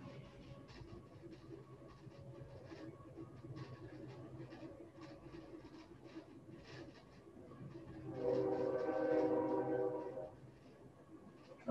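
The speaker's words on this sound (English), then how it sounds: "Listen to the romantic train go by in the distance." A distant train rolls past, a faint low rumble that swells and peaks with a brief horn-like tone near the end before fading, heard alone in a quiet setting.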